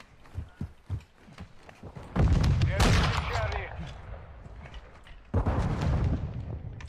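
Call of Duty multiplayer gunfire, with loud bursts of rapid shots and blasts at close range after a quieter stretch of scattered game sounds.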